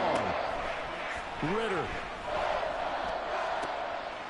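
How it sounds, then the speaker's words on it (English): Football stadium crowd roaring at a steady, fairly loud level, swelling slightly in places, with a play-by-play announcer talking over it throughout. "This crowd turning up the decibel level."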